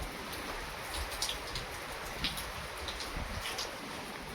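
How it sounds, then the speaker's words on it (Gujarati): Heavy rain falls outdoors on a farm during days of wind-driven downpour, a faint, steady hiss with scattered droplet patter running through the whole stretch. "દિવસથી લગાતાર વરસાદ ચાલુ છે અને અત્યારે પણ હજી ચાલુ છે"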